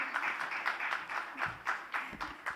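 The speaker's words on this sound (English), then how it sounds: "A round of applause for Dr." Audience applause at a stroke awareness talk in India, a steady, moderately faint clapping from a crowd that continues through the short stretch without speech over it.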